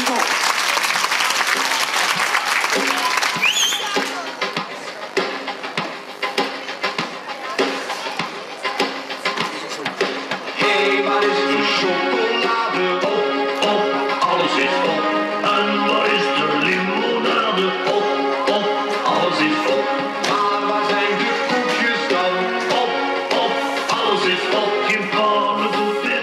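An audience at a Wonderland celebration event applauds the performers, a loud, sustained wash of clapping at the start that gives way to music with voices over it.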